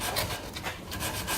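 Wood on a piece of antique furniture is ground down during restoration, a close, steady abrasive rasping that pulses in quick repeated strokes.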